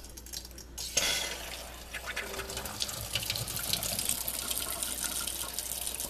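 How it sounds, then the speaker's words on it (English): Water runs steadily from a newly installed kitchen sink faucet and sprayer, replacing an old faucet, a continuous close hiss and splash that starts abruptly and keeps going, with no talking. "There's our running water, our new sprayer."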